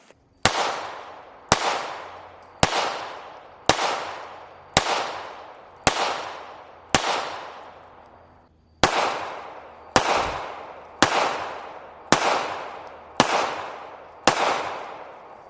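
Fourteen sharp, loud pistol shots from Walther PPK handguns in .32 ACP and .380, fired at a steady, unhurried pace outdoors, each crack trailing off in a brief echo, with a single longer pause midway.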